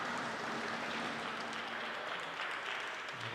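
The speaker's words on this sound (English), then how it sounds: "Rowdy crowd." Rowdy crowd at a Major League Table Tennis match between Portland and Bay Area, with steady dense applause and crowd noise filling the hall throughout, with no clear voices standing out.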